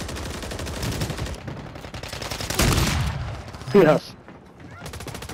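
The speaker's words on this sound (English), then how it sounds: "And we're getting shot at by the sloth again." Enemy gunfire rattles out in a video game firefight, with bursts of shots coming in under steady chatter from players talking over it.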